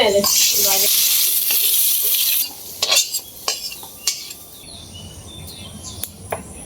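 Potatoes fry with cinnamon in a pan, opening with a loud bright sizzle as they go in, then quieter frying under a string of sharp utensil clinks and scrapes against the pan.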